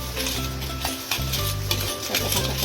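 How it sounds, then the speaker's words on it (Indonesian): Palm sugar mixture is stirred in a pot as it starts to boil, giving a steady sizzling, bubbling hiss with soft scraping strokes throughout, close and fairly loud. "Terus kita aduk. Nah, ini sudah mulai menggolak."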